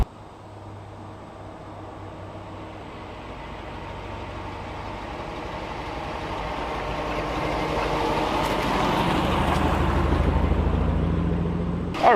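British Racing Green V12 Jaguar E-Type driving and gradually accelerating, a steady engine drone under road noise that swells louder toward the end, with no talk.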